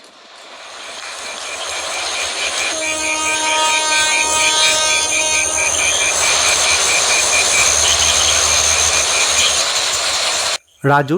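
Loud continuous rumble and whine of a moving train, building over the first seconds with a steady tonal hum, then a brief cut near the end.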